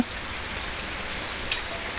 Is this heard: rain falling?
yes